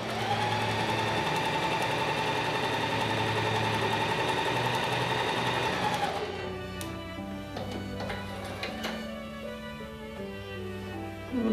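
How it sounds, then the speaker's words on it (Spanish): A sewing machine sews a straight stitch at stitch length 4 with the standard presser foot and a size 11 or 14 needle, making a steady close mechanical whir that runs continuously and then shifts to a lighter rattling rhythm with some clicks. "vamos a coser en puntada recta con el largo puntada en 4 para que la tela no nos recoja, con el pie normal de la máquina"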